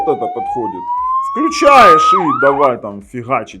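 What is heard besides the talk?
police siren played from Tank 4 Pro smartphone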